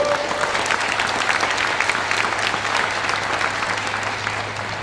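A seated audience gives steady, dense applause for about five seconds, loud and even, tapering slightly at the end, with no voice over it.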